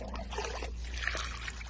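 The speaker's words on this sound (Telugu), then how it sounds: "ఇప్పుడు మళ్ళీ కొంచెం నీళ్ళు వేస్తాను." Water poured into a homemade liquid fruit-tree fertilizer mix, giving a short gurgling trickle and splash that comes and goes in uneven bursts, close by and moderately loud, with no speech.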